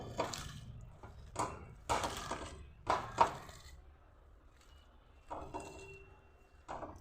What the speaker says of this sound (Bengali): নুন আর টমেটো কুচি আর লঙ্কা কুচিটা দিয়ে ভালোভাবে হাতে করে এইভাবে